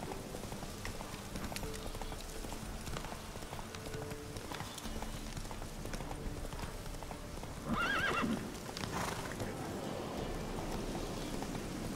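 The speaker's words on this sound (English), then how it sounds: "Park the horse inside." A horse in The Witcher 3: Wild Hunt trots with steady clip-clop hoofbeats over game ambience, then lets out a brief whinny midway, all fairly close and clear with no talking.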